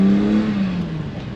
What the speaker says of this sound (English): Remember, engine is still cold. Don't rev it too high.